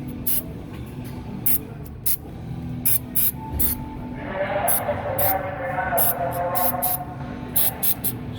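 White lithium grease sprayed from an aerosol can onto rusty pickup truck running boards, heard as repeated short hissing bursts. They grow into a denser, sustained spray in the middle, close and loud, over a low background hum.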